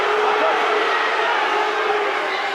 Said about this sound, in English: That's why the crowd are going berserk.